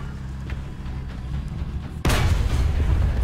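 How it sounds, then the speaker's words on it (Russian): A tank's ammunition rack detonates in the War Thunder video game, a sudden loud booming blast that cuts in abruptly midway after quieter engine rumble and stays heavy to the end. "Взрыв боекомплекта."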